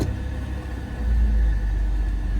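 A used car at a dealer-only auto auction, its ABS warning light on, idles with a low rumble that deepens and swells as it is shifted into gear, then holds steady nearby.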